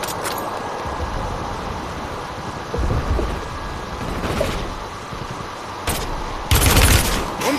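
Gunfire in the video game Call of Duty Warzone, loud close bursts of shots and heavy booms over a dense rumbling battle background, with sharp peaks near the middle and a stronger burst toward the end.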